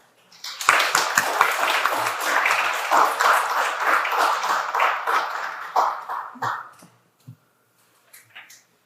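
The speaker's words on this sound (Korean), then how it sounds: "이동철 신부님을 큰 박수로 맞아주시기 바랍니다" Audience at an academic symposium applauding to welcome a priest presenter, a dense steady wash of clapping from many hands for several seconds that thins out and stops, leaving a few scattered claps.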